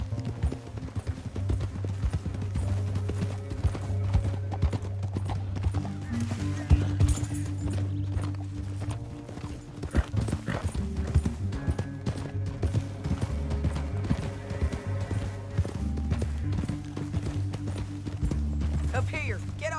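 Hooves pounding steadily as horses gallop across open country in Red Dead Redemption 2, with rapid clip-clopping throughout, occasional distant gunfire and characters talking over the ride.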